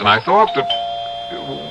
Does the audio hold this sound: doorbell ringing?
yes